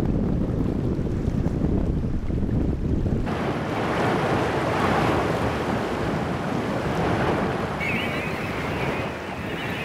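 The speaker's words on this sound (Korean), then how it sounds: "거친 물살과 함께 바닷물이 밀려오면서 드넓게 펼쳐졌던 갯벌이 서서히 그 모습을 감춰가고" Rough tidal seawater rushes in over wide mudflats as the tide rises, a loud, continuous roar of surf and churning water with wind buffeting the microphone.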